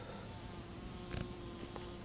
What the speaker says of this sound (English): It's cool, these bees.